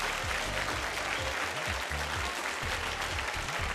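Dense, steady audience applause on a televised contest show welcomes the jury members, filling the whole moment with continuous clapping over a faint low musical hum.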